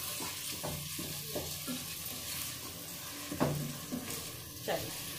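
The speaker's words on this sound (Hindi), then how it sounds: "एक आध मिनट चम्मच हिला लें चावल" A spoon stirs soaked rice in a pot for dal khichdi, with a soft sizzle under scraping knocks against the pot and a couple of sharper clinks.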